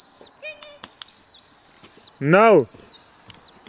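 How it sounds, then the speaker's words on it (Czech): A person whistles for a dog outdoors with a sharp, rising and falling call near the middle. Steady high whistle tones and short chirps sound around it, and a voice calls out briefly. "A teď hned pískni ke mně."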